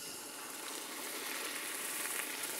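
Bananas, ginger and cream cook in a caramel sauce of melted butter over low heat, giving a steady, soft, close sizzle that barely changes from start to end, with no voices.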